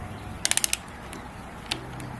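A torque wrench ratchets a bolt on an engine block in a quick run of five sharp clicks, then one more click and a fainter tick after a pause.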